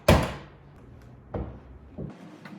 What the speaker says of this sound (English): First, you gotta pop the hood.